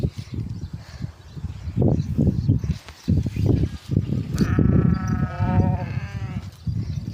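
A flock of sheep and goats on the move with shepherds, bleating repeatedly near and far over a shuffling, trampling bed of hooves, with a few distinct long bleats standing out.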